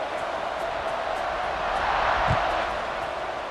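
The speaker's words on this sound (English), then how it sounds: "this crowd is buzzing after that last score" A football stadium crowd buzzes after a score in a second-quarter game, a broad, steady wash of distant voices and murmur that swells slightly midway, continuous and fairly loud with no clear individual words.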